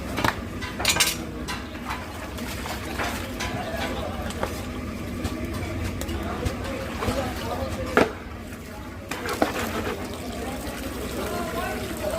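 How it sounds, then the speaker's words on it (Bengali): Eggplant is cut for frying at a Mawa ghat food stall, irregular knife and dish clacks ringing out amid voices talking and general kitchen clatter. "আজকে আমরা বেগুন ভাজা কাটছি"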